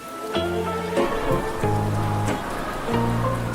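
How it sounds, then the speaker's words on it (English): Steady rain patters on a surface, with a low sustained musical drone swelling and dropping in and out over the top. "A sudden rain makes Peppa grab her colorful umbrella."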